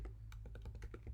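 Rapid keystrokes on a computer keyboard while entering code in the Julia programming language, a close, steady run of light clicks at an even pace, with no talking.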